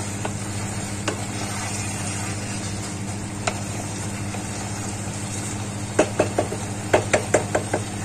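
Curried mountain greens sizzle in a pan under a steady frying hiss, with a few scattered knocks and then a quick run of close spoon-on-pan taps while the mixture is stirred.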